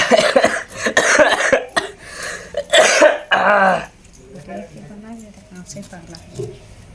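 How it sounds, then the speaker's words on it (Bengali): Several loud, close coughs come in a cluster, followed by quieter talking voices in the background. "কাশি পাইলে কাশি করবেন?"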